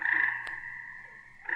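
A tree frog calls in one long, steady, fairly loud trill that holds for over a second and then starts again, with a brief click partway through and no voices.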